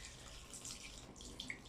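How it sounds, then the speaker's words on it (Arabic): Tap water runs steadily onto a fiber quilt spread in a bathtub, a soft, fairly faint continuous splashing with no talk. "اول حاجة هتفرديه كده في البانيو زي ما انتوا شايفين اهو، وتسيبي عليه مية"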